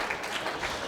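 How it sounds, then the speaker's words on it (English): Brief scattered clapping from a church congregation during a sermon, a short steady patter of hands heard up close for under a second. "hey, yeah, clap for me"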